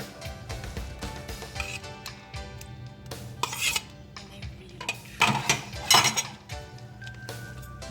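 Batter with grated cucumber being stirred in a bowl for pan paratha, with repeated clinks and scrapes of a utensil against the bowl, near and moderately loud, some strokes sharper and louder than others, no talking.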